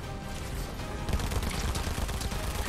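Shotgun fire in the video game Fortnite, a rapid series of dense bursts and crackling impacts growing busier in the second half, loud and continuous with no talking.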